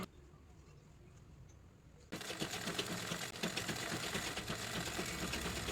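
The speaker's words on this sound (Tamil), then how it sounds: "இப்போ வந்து ப்ளவுஸோட பேக் சைடு வந்து அடிச்சுக்கிட்டு இருக்கிறேன்" Sewing machine stitching the back side of a blouse, quiet at first and then a loud, steady rapid mechanical clatter starting partway through, close up, with a voice speaking faintly under it.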